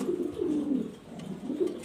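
A pair of Jorna shirting pigeons coo softly up close, with repeated low rolling coos in a gentle rhythm against quiet surroundings.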